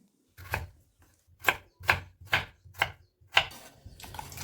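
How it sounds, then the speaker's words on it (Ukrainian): Rhythmic knife chops cutting potatoes into cubes on a cutting board, about eight crisp strokes in steady succession, close and fairly loud. "Картоплю нарізаю кубиками і ставлю її варити."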